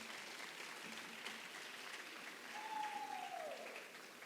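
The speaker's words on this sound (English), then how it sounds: "So I just give them a round of applause." Audience applause for a student team at a high school awards ceremony, a steady wash of many hands clapping throughout at moderate level, with a brief whistling tone near the end.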